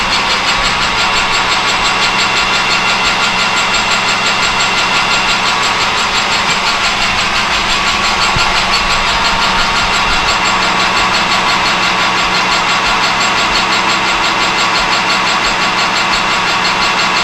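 A metal lathe takes a light finishing cut of about two thousandths, feeding from the inside out, with a steady mechanical whir and hiss that run continuously without change.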